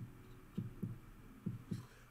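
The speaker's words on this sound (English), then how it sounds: "What is this heartbeat?" Two pairs of soft, low heartbeat thumps, lub-dub then a pause then lub-dub again, played as a dramatic effect during a one-on-one basketball reaction, with no talking over them.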